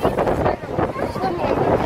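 Strong gusty wind buffets the microphone at a seaside cliff, a loud rumbling roar rising and falling without pause; a voice can be heard within the wind.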